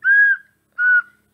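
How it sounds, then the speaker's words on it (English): A whistle sounds in a flea market song, two clean sustained toots, the first longer and the second shorter after a brief gap, loud and close with nothing else behind them. "whistle."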